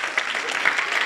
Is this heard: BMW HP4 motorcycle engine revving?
no